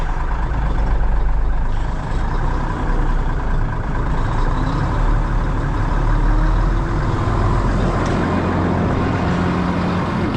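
A truck's diesel engine runs in fourth gear with the PTO engaged for a spreader, a loud steady rumbling drone that stays close and even throughout, with no talking.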